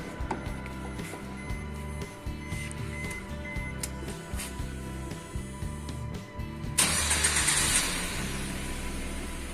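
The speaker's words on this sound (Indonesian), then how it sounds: "kita hidupkan mesin terlebih dahulu" A car engine with a lit check-engine warning and a fault is cranked in a workshop, giving a steady rhythmic chug that swells into a louder, brighter running roar near the end, close and without talk.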